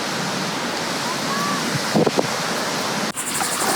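Steady wind and rolling surf on a breezy day at Hobe Sound Beach, Florida, forming an unbroken roar with a couple of brief gusty bumps against the microphone.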